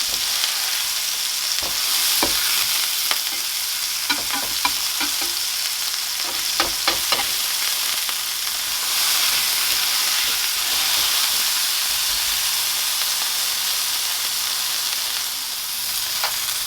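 A hamburger patty, squished into a big football shape and seasoned with salt and black pepper, sizzles steadily in a hot pan, a dense, continuous fry with occasional sharp pops and crackles near the start.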